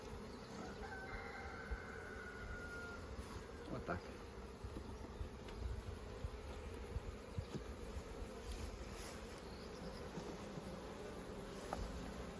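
Honey bees buzz around an open hive, a continuous, close swarm drone with individual insects passing nearby and no talking.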